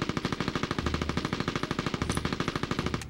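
A belt-fed machine gun fires in Mercenaries on PS2, a loud, rapid, unbroken stream of shots at an even rhythm for about three seconds before cutting off.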